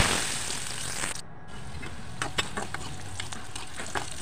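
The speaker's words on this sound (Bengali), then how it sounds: "তো এখানে মটরগুলোকে আমি একটু ভেজে নিলাম হালকা করে" Peas fry lightly in a pan for a bottle gourd and pea curry, giving a steady, close sizzle with a few soft stirring clicks and scrapes and no voices.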